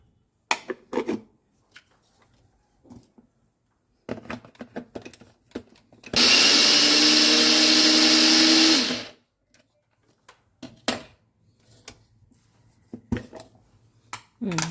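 A kitchen chopper blends fresh mint and green chillies in one steady, loud whirring burst of about three seconds, set between quieter clinks and handling sounds of dishes.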